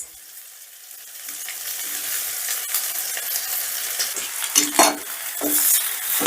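Rice being stirred together with vegetables in a pan, soft sizzling joined by repeated scraping and metallic clinks of a spatula, growing louder toward the end, with no speech.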